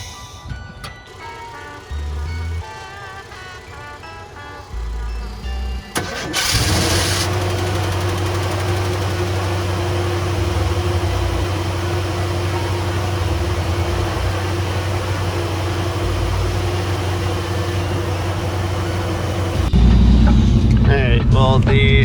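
A car engine idles at high cold-start revs on its first start after a long time, a steady close drone holding evenly with a louder, rougher stretch toward the end.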